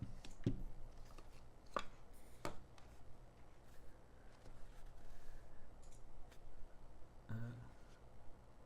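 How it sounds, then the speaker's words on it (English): Keystrokes on a Geon F2-84 gasket-mounted mechanical keyboard come as sparse, sharp clicks spaced a second or so apart, fairly close, over a low steady background hum. "And now we're going to listen to the F2-8X, which is not an affordable keyboard."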